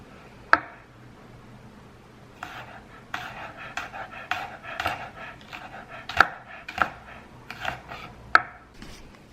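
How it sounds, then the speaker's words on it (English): A knife chops three garlic cloves on a cutting board, sounding as close, sharp taps: a single knock, then an irregular run of quicker cuts and a few louder strikes. "First thing I'm gonna do is chop up 3 cloves of garlic"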